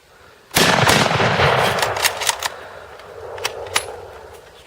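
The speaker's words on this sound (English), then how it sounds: "We're just gonna shoot the hell out of it, see what happens." 117-year-old rifles fire at a piece of cement outdoors: a loud close shot opens, followed by a quick string of sharp cracks and echoes, several in rapid succession with no talk.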